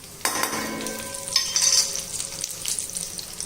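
Fennel, kalonji and nigella seeds hit hot oil with a sudden loud sizzle that keeps crackling and hissing. Stirring adds soft movement under the frying, and no one speaks.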